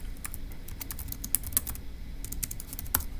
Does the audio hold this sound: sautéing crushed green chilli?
no